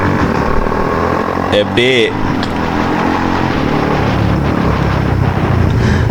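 A motorcycle rides through traffic on JC Road in Bangalore, its engine droning steadily throughout, with surrounding vehicle noise, a brief horn-like tone, and a rider speaking briefly over it.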